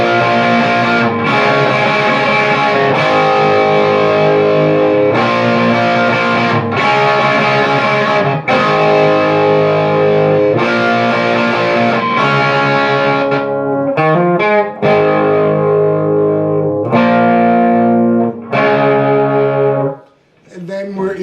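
Loud distorted electric guitar plays chorus chords from a rock song in a steady strummed pattern, with a few quieter broken stabs before the final chord decays.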